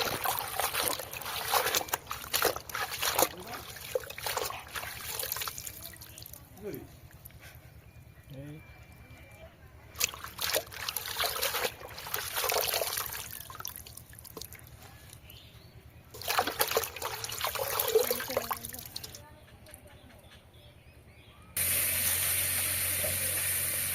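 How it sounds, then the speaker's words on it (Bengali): Sour spinach leaves are swished and rinsed in water in bursts of splashing and trickling, separated by quieter pauses. A brief steady hiss comes at the end. "এখন শাকগুলো ধুয়ে নিচ্ছি"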